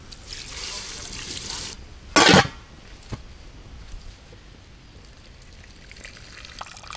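Water trickles and runs, then a short, loud gush pours into a cooking pot and splashes before settling back to faint dribbling and light kitchen clatter, outdoors in a village.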